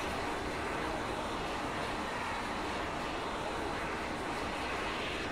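An Arma 3 helicopter engine gives a loud, steady broadband roar and whine that fills the whole stretch without letup, with no talk over it.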